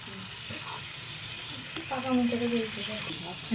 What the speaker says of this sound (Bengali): এবার আমরা আলুগুলোকে কষিয়ে নেব